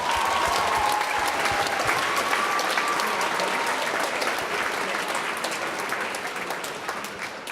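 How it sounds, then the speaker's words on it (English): A school assembly crowd in a gym applauds in a sustained, thick roar of clapping that holds steady and tapers slightly toward the end, with faint voices mixed in. "Give yourselves a round of applause"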